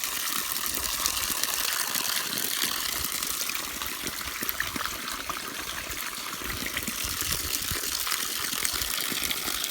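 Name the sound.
water gushing from the ground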